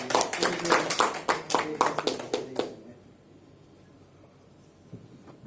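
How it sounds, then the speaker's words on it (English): Audience at an academic telecommunication conference clapping for a presenter, a brief burst of sharp, uneven handclaps for about three seconds that stops abruptly, leaving a quiet room. "give applause to Mr. Patrick"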